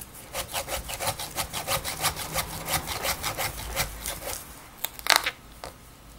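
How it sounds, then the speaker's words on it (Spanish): A serrated kitchen knife saws vertically through a hard, fibrous fig-leaf gourd with a rapid, even rasping rhythm of back-and-forth strokes, close up, then a few sharp cracking scrapes near the end, with no talking. "voy a probar si con este cuchillo de sierra, si no se rompe, a darle un corte vertical"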